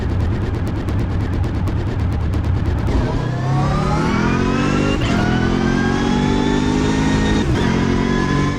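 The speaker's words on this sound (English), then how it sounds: "You can hear the engine and transmission on the limit." A racing car engine in the video game Automobilista 2 revs hard at the limit with rapid shifts and rising pitch sweeps, loud and steady throughout, with a rattling buzz before the gears climb.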